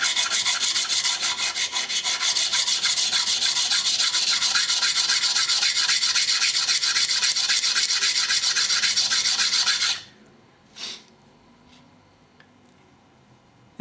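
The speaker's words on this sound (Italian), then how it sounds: "rettifichiamo con cura il fondo della piastra" A spokeshave's locking plate is lapped flat on an abrasive surface, making a steady, close, rhythmic rasping rub for about ten seconds that stops abruptly, followed by a couple of faint clicks.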